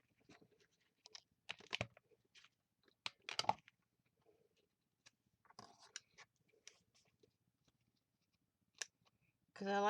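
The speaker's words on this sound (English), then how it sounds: "I'm going to round my corners off just a tad." Scissors snipping paper corners to round them off, a handful of short crisp cuts spaced through quiet moments, faint soft talk in between and a louder burst at the end.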